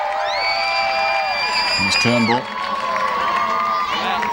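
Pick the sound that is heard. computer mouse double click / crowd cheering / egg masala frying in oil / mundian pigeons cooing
crowd cheering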